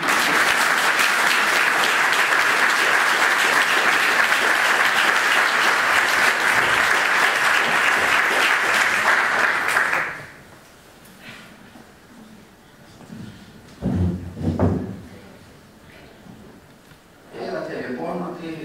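Audience applause at a philosophy gathering on Syros, loud and sustained for about ten seconds before stopping abruptly, followed by a quiet room with scattered voices and brief speech.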